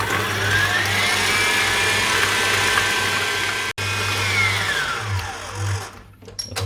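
Butter and sugar for an apple cake beating in a food processor, a loud steady motor whine held close, briefly cut once, then the pitch sags and the motor winds down with a few clunks at the end.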